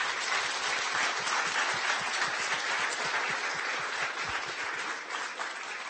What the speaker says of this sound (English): Let's give a round of applause to our speaker.